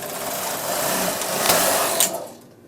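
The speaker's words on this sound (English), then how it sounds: "I am going to knit across to the left." Knitting machine carriage pushed across a row on a machine fitted with a ribber: a continuous mechanical whirring rush for about two seconds that stops abruptly, with no talk over it.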